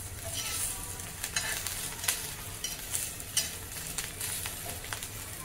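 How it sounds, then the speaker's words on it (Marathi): Green chilies roasting in a pan over a medium gas flame, giving a faint, even sizzle with soft intermittent clicks as they are turned. "मिरच्या भाजायला पाहिजे व्यवस्थित, म्हणून मिडियम गॅस करायचा आणि असे डाग पडेपर्यंत भाजून घ्यायचे"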